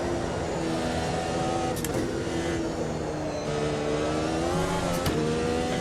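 Formula race car in the Automobilista 2 racing game at Canadian Tire Motorsport Park, engine droning loud and steady, then briefly dropping under braking with quick blipped downshifts before climbing again.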